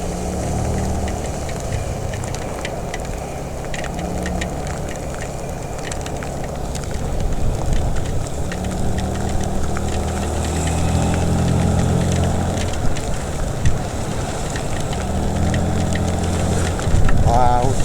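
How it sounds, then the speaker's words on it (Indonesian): Heavy rain falls on a road on the south side of Jalan Citarik Baru, a steady broadband wash that thickens partway through, with a vehicle engine rumbling underneath and no talking. "Wah, hujannya nih mulai agak deres ya."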